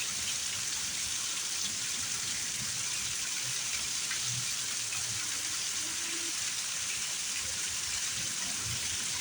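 Heavy rain pours steadily and loudly during a thunderstorm, a constant dense hiss with faint low rumbles beneath it.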